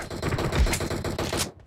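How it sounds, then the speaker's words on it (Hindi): Rapid automatic gunfire fills a PUBG match, dense and loud bursts of shots rattling close for over a second before cutting off. "फायरिंग चालू हो गई भाई"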